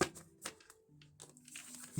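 Large oversized tarot cards are shuffled by hand in a few short, quiet papery riffles and crinkles, close and intermittent, with pauses between bursts.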